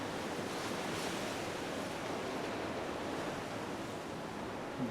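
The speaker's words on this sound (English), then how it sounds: "It's extremely windy as the sun has gone down here in Los Angeles." Strong wind at night in Los Angeles roars as a steady, dense broadband rush, loud and unbroken for the whole stretch, with no voices.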